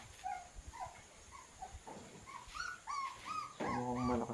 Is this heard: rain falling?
no